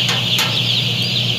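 Broiler chickens in a closed-system house cluck and murmur steadily close by, with a few brief sharper calls over a constant background hum.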